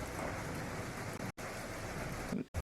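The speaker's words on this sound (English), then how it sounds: "The rain currently pitter pattering off of the tin roof." Steady rain patters on a tin roof at the docks, a dense continuous hiss close by that cuts out briefly twice before ending in silence.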